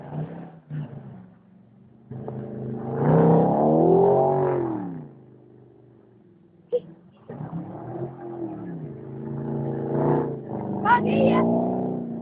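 Audi A8 with a custom exhaust doing donuts in about three inches of fresh snow, its engine rising and falling in two loud revving swells with a short lull between, while people talk over it.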